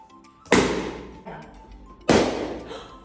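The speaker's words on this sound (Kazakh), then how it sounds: "Кәне, шарды жарып көрейікші." Two sharp, loud bangs about a second and a half apart, each a sudden burst that quickly fades, with faint background murmur.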